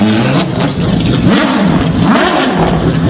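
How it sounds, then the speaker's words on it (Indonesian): Toy race car with a loud, close engine-revving sound that rises and falls in quick wavering sweeps, heard alone with no talk. "ada mobil balap"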